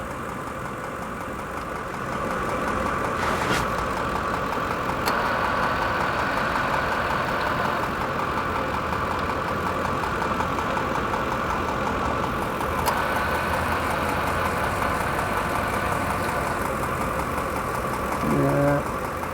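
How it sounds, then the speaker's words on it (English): A Ford F150's AC compressor kicks in under a steady engine idle, raising the level of a continuous mid-pitched hum with occasional faint clicks, heard up close throughout. "You can hear the compressor coming on."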